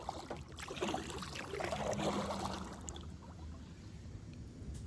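Kayak paddle strokes on a lake at sunset, a soft steady wash of water and light splashing with some wind, moderately close, no one speaking.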